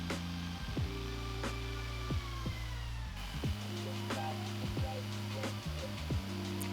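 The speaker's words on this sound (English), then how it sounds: "then I could take my jigsaw, my beloved jigsaw, and cut the rest of that inside handle out" A jigsaw cuts out the inside handle of a wooden charcuterie board, its motor buzzing steadily and loudly at close range while the pitch shifts as the blade works through the wood, with no talk.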